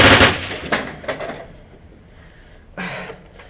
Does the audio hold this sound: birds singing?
no